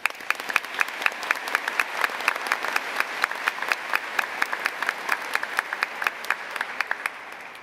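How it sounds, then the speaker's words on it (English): Steady applause from an audience honoring speakers at a college presidential inauguration at Davidson College, with dense, even clapping holding throughout at moderate distance. "please join me in giving them a round of applause."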